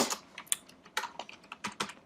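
Code being typed on a computer keyboard while working in Swift in Xcode: a quick, irregular run of close, crisp key clicks with short pauses between bursts.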